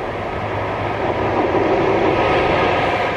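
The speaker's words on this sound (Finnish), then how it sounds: "Ja nyt saapuu taas juna." A train arrives with a steady, loud rumble and rolling roar that grows slightly stronger over a few seconds, heard close by without voices.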